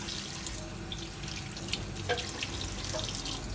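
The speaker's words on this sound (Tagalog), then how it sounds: "Hugasan muna ang egg para malinis." Chicken eggs are washed under a running tap in a sink, the water flowing steadily and close by, with small splashes and clinks as the eggs are handled.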